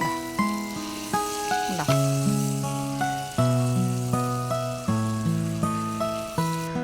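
Beef steak frying in a pan, giving a steady, continuous sizzle heard beneath a prominent melodic music track, with no speech.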